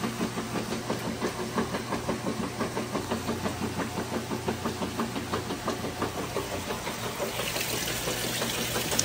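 A Roper top-load washing machine fills with water, a continuous rushing hiss under a steady rhythmic mechanical thumping and hum, close and moderately loud throughout.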